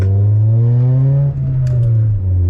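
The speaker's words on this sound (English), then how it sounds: "when I revved it at idle, I wasn't too happy with the noise I heard from it" A Honda Prelude engine with a repaired exhaust revs at idle, its loud droning note climbing and then sagging back down, heard close and alone.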